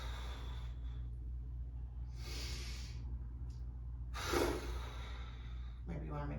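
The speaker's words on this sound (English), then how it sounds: "take a couple breaths, full breaths, filling up the entire body" Full, slow breaths taken during a seated yoga practice: soft airy inhales and exhales, one deeper breath standing out, faint and close over low background hum.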